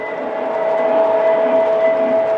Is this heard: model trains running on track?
yes